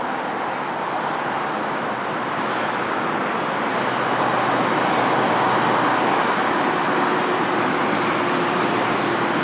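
A TAP Air Portugal airliner at Lisbon Airport produces a continuous broad jet-engine roar, loud and steady, swelling slightly through the middle with no voices over it.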